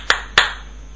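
Two crisp hand claps ring out close together against a low steady hum, each leaving a brief fading tail, while someone tests an Android clap-to-find-phone app.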